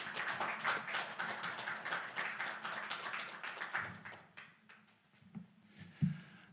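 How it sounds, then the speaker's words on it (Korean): A lecture audience claps to welcome a pastor to the podium, a dense wash of applause that carries for several seconds before thinning out into a few scattered claps and small room noises. "전부 같이 박수로 맞이하시기 바랍니다"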